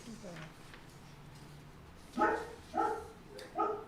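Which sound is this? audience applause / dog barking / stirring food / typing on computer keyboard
dog barking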